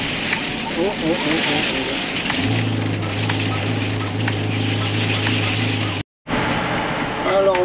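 Heavy rain drums steadily on a car during a Christmas-time shower, a dense close hiss under engine hum, with a brief cutoff and a short exclamation from a voice.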